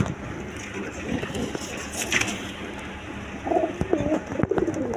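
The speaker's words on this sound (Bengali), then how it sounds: "এটা মূলত ইন্ডিয়ান বোম্বাই কবুতর ব্ল্যাক কালারের" A pair of large black Indian Bombai pigeons, a male and a female, give a few low coos late on, over a busy, noisy background of rustling and indistinct activity.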